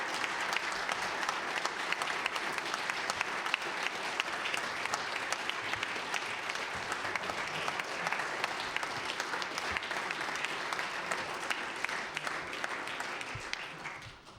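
Members of a House of Assembly applaud in the chamber at the close of a session, with long, even clapping that continues for over ten seconds before fading at the very end.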